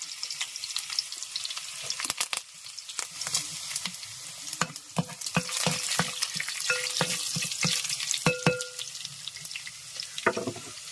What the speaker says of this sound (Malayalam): നമ്മൾ അതിനകത്ത് കുറച്ച് കടുക് ഇടുവാണ്. അപ്പൊ ചുവന്നുള്ളി നമ്മൾ ഇടുക.